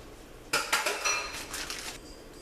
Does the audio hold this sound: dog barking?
no